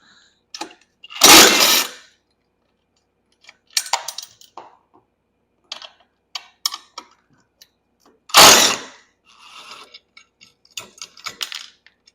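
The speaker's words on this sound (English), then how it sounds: "I'm gonna pop this canopy off" An EZGO golf cart's canopy is worked loose and lifted off, with scattered clanks, rattles and metallic clicks of bolts and frame parts, broken by two louder, longer scraping thumps and quiet gaps between.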